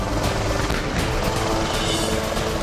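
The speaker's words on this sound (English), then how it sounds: "The 2-ton light helicopter can be modified from a basic cargo utility chopper" A 2-ton LUH light military helicopter, a loud continuous turbine whine with rhythmic rotor thudding, steady and close throughout without speech.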